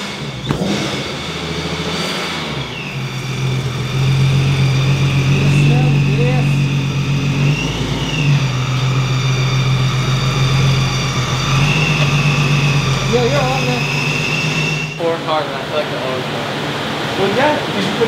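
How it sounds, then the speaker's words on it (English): Supercharged Infiniti Q50 3.7L on a dyno, a loud sustained engine drone with rising and falling rev tones, close and continuous, with people talking over it. "so that way we could get the first dyno run here"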